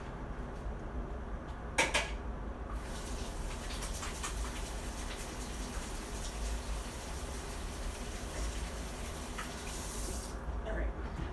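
Kitchen sink faucet running steadily while garlic is rinsed, a continuous moderate wash of water with a few clinks of dishes, and a voice talking faintly over it.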